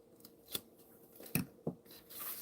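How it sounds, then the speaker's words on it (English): Paper backing peels off adhesive tape on a Halloween haunted home kit, heard as a few quiet crinkly rips and crackles in close, soft handling noise. "I'm going to remove the paper."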